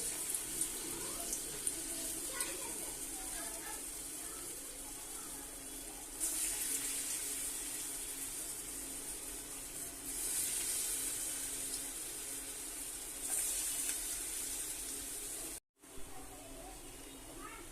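Small moong dal pakoras frying in hot oil, a steady broadband sizzle that swells each time more batter drops in, close and continuous with no talk.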